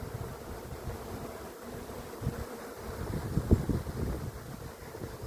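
Honeybees buzz in a soft, continuous drone while being tipped from a box into a hive on a fine day. Wind rumbles on the microphone underneath, and a few dull knocks and bumps rise toward the end.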